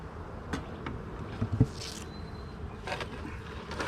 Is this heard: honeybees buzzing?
yes